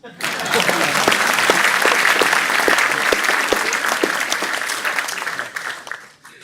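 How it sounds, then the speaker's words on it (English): An audience at an alumni award ceremony gives sustained, dense applause that stays loud and steady for several seconds before tapering off near the end. "Applause, please."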